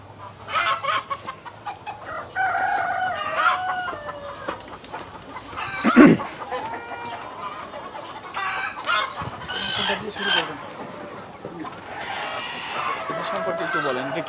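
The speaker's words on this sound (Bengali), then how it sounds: "তো ফিরোজ ভাই চলেন আমরা আসলে আমাদের দর্শকদের আপনার এখানে যে মুরগিগুলো আছে সবকটা হয়তো দেখাতে পারবো না" Chinese-breed chickens cluck and call repeatedly nearby on a poultry farm, with a rooster-like cry among them, while people talk over the birds.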